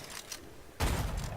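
A single rifle shot from the Sharpshooter in the video game Killing Floor 2, one sudden loud blast with a short rumbling tail following a quiet stretch.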